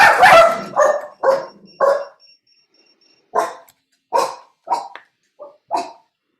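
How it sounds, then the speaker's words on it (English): Several puppies bark in short, sharp bursts, a loud cluster at first followed by spaced yips and barks, close by and with no talking. "I hear puppies."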